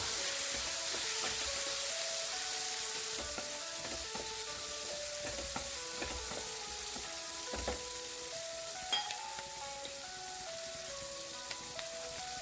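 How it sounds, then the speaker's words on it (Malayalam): Chopped small onions (shallots) sautéing in oil with dried red chillies in a pan for drumstick theeyal, a steady soft sizzle with faint scraping stirs throughout, no voices. "ഇതിലേക്ക് നമ്മൾ അരിഞ്ഞു വെച്ചിരിക്കുന്ന ചെറിയ ഉള്ളി ചേർത്തൊന്ന് വഴറ്റിയെടുക്കണം"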